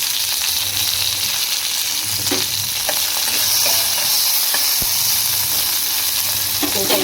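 Ajwain, curry leaves and coriander tempering in hot oil for buttermilk, giving a steady close sizzle and crackle with a few sharper pops throughout, no talk over it.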